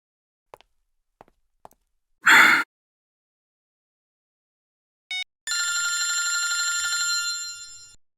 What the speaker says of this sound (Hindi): तारिका जी का फोन।